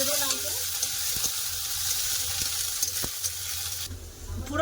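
Chopped onions sizzle in a hot tempering with two dried chillies, a loud steady fry close by with occasional spoon taps and scrapes, then the hiss drops off toward the end.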